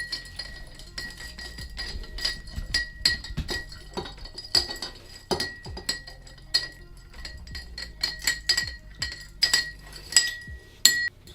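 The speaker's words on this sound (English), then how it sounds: "give it a light stir before straining it into a martini glass" A vodka dry martini stirred with ice in a mixing glass, with repeated close glassy clinks and ticks of ice against glass and a spoon in a steady rhythm, and no speech.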